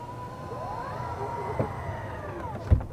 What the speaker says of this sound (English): there's a little button right here, and you push it, and down comes the door